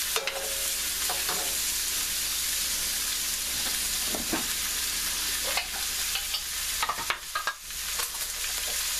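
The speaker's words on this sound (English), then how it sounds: "I'm going to add my tofu back to the pan. Mix it up in there." Tofu sizzling in a pan with gochujang as it is stirred, a bright steady frying hiss broken by several scraping strokes and clicks of the utensil, near and with no talking.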